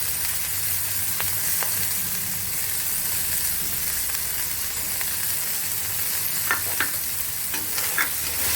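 Sliced spine gourd frying with cumin, chilli and pepper in a pan, a steady close sizzle and hiss throughout with occasional scraping clicks of a spatula stirring.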